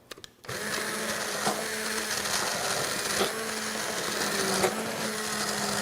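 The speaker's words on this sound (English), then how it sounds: "I have our hand blender." A hand blender purees butter chicken sauce, a steady close motor whine with brief surges in pitch every second or so as the blade churns through the thick sauce.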